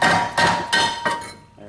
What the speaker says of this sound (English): Got a rubber mallet here that I'm using just to kind of help take this off.